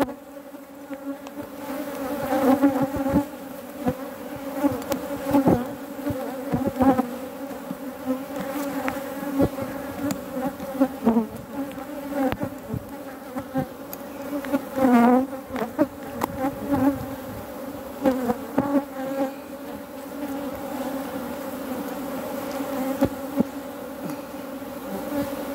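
Honey bees buzzing around an open hive during an inspection, a dense, steady drone close by with individual bees flaring louder as they pass near.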